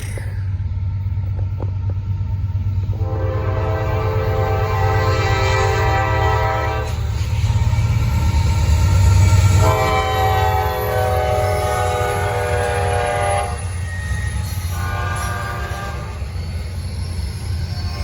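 Norfolk Southern freight train NS 25A rolls past with a deep steady rumble as its multi-chime horn sounds in several long blasts, loud and close.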